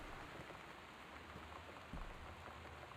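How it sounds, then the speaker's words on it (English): Steady rain falls in the video game Gone Home, a soft, even patter heard alone at low volume with a slight swell near the end. "Raining."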